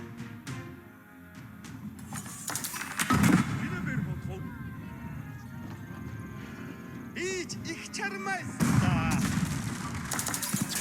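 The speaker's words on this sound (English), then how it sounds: "Cannon is already beginning to snipe down towers" Cannon fire in the real-time strategy game Age of Empires IV, with booming shots around three and nine seconds over a steady layer of battle noise, clattering hooves and game effects, with some voice-like sounds mixed in.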